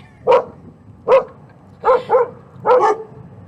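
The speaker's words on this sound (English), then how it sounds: "There's 2 dogs out here." Two dogs bark outdoors, five loud close barks in an uneven rhythm, two of them coming in a quick double, against a quiet background.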